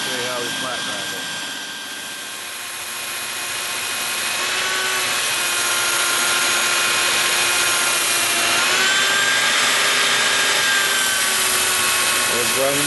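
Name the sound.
sander with 40 grit paper grinding old saw blade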